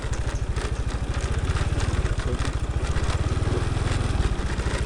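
A tractor used as a vehicle on dry-season rice fields near Thakhek, Laos, chugs steadily throughout with a loud, close, rapid low engine throb and no voices.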